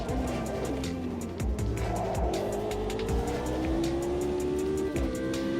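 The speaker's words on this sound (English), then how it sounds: "the cars are really loud on your end" Race cars in a sim racing video game roar around a UK track, engine notes rising through gears with shifts and tire squeal, several cars close together, loud and continuous without talk.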